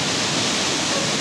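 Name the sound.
Nurkha waterfall, water rushing down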